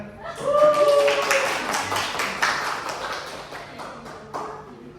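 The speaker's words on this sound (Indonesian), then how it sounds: "Boleh kasih tepuk tangan?" Children in a classroom clap for a math olympiad winner, a burst of quick overlapping claps that builds then gradually thins, with voices talking over the clapping.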